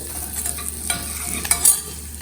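Turmeric stirs and fries in a hot pan with a soft sizzle, broken by scraping strokes of a spoon and a few sharper clinks, with no talking.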